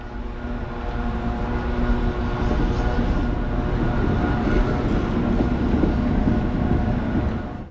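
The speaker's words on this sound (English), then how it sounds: "A train pulls into the station and we're off, heading all the way up the line to Tompkinsville" A Staten Island Railway train rumbles loudly and steadily nearby, a dense low roar with faint tonal hum holding throughout before easing off at the very end.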